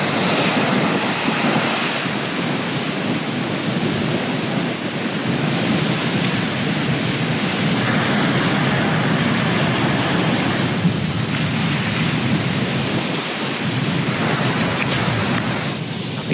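Storm waves crash and surge along the Canary Islands coast with blowing spray, a loud continuous roar of surf with wind buffeting the microphone throughout, no voices.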